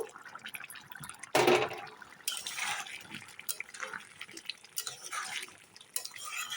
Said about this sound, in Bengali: এখন একটু ফুটিয়ে নেব গ্যাসটা বাড়িয়ে দিলাম